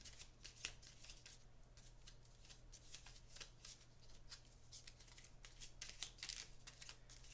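A tarot card deck shuffled continuously by hand, a quick run of papery riffles and flicks close by over a low steady hum, with no talking.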